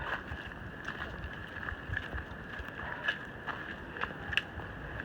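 Cold wind on an exposed trail in the Smoky Mountains, a steady low rush and buffeting against the microphone, with faint scattered rustles and clicks mixed in.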